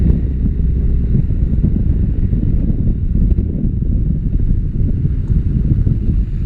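Strong wind buffets the microphone outdoors at 9 degrees while washing a scooter, a continuous low rumbling roar that stays loud and rough throughout.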